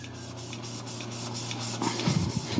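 A hand plane blade is rubbed back and forth on a wet sharpening stone to remove the burr, a soft rhythmic close scraping that grows slightly louder toward the end, with no talk.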